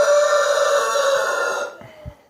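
A rooster crows loudly and close by on a farm, one long sustained call that cuts off abruptly, followed by faint knocks.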